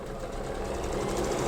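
Close, steady rapid chatter of a sewing machine stitching a fabric organizer basket, running continuously through a short backstitch and picking up slightly in loudness toward the end.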